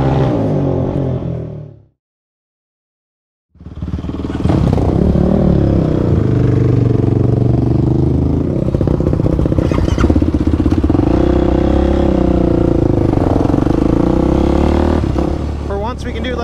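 ATVs riding together, a Yamaha YFZ450R chasing a Honda TRX520, with a loud close engine that revs steadily and cuts out briefly before roaring back, its rough mechanical drone continuing under bits of talk.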